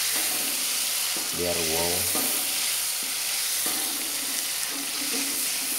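Sambal frying and being stirred in a pan with a generous amount of oil, giving a steady, close sizzle with scraping stirs. A voice speaks briefly partway through.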